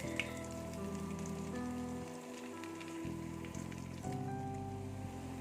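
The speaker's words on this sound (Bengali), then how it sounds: "পেঁয়াজগুলো ভাজা হয়ে গিয়েছে" Onion fritters (piyaju) frying in hot oil give a steady, close crackling sizzle that runs throughout, with no talking.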